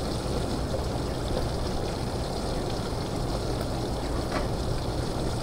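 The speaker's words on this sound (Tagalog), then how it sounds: "Tapos lagyan na tubig." Water streams steadily into a cooking pot while a sweet potato leaf salad is prepared, a constant close pouring rush with no pauses and no voices.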